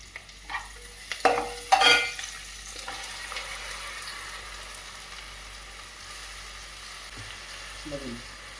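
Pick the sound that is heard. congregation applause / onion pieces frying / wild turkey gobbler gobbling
onion pieces frying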